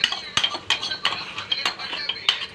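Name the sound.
stirring dal tempering in a pot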